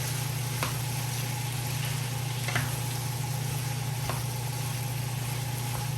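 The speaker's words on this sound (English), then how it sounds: "let it go on saute, let it go on fry a little" Fish for brown stew frying in a pan, giving a steady, continuous sizzle with a few faint clicks of stirring over a low constant hum, no voices present.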